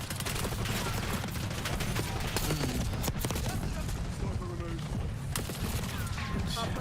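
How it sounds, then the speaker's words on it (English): Dense assault rifle fire and explosions in a Call of Duty Black Ops 6 multiplayer match, with continuous loud bursts of gunfire mixed with game effects and occasional voices talking over it. "the assault rifles are so good in this game"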